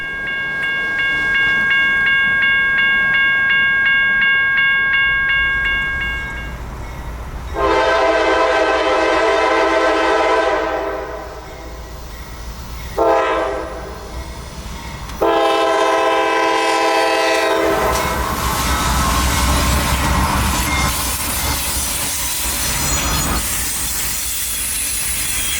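A CSX IO32 intermodal freight train nears with a loud, sustained multi-tone horn blown in long and short blasts, then rumbles past close by, wheels and cars roaring steadily.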